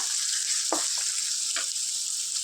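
Chicken sizzles in a hot pan with a steady, bright frying hiss throughout, broken by a couple of brief stirring scrapes.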